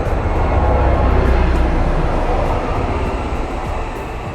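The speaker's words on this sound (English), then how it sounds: "Train through my audio." A loud, steady low rumble of a train rolling past nearby, with a broad roar that swells and then slowly eases off.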